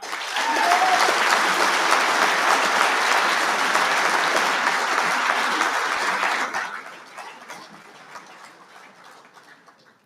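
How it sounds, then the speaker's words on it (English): A large audience at a military awards dinner ceremony applauds loudly and steadily for several seconds, then the clapping thins out and fades away toward the end. "Ladies and gentlemen, a round of applause for Chief Select Carrasco."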